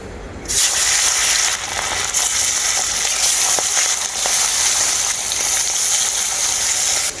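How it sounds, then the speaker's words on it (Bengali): Pieces of silver carp fish frying in hot mustard oil, a loud, steady, close sizzle that bursts up as the fish goes in and crackles on continuously. "এক এক করে মাছগুলো সবই তেলের মধ্যে দিয়ে দেবো"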